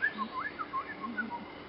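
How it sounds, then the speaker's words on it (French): A blackcap warbler sings in woodland, its short, fluting whistled phrases rising and falling in a quick, varied run. The song is fairly faint and somewhat distant, with no one talking over it. "Là notamment la fauvette à tête noire."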